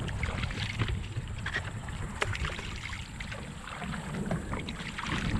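A 12 ft homemade foam-and-fabric kayak is paddled gently on a park lake, giving soft, steady water swishes and drips under a constant wash of wind and outdoor background noise, with no one talking.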